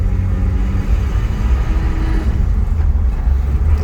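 A 1967 Ford Mustang fastback with a four-speed on a test drive, its engine a steady, loud low rumble from inside the car, continuous road and exhaust drone throughout with no talking.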